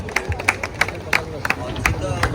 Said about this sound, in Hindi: तो जोरदार तालियां होना चाहिए हमारे सभी गेस्ट के लिए।